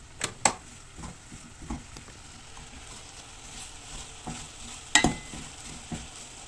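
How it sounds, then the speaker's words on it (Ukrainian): A spoon stirs and scrapes through apples stewing gently in butter in a pan, with a few sharp clacks against the pot over a soft frying hiss. "Перемішуємо і притомлюємо на вогні."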